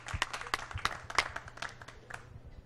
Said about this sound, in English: Applause, everybody.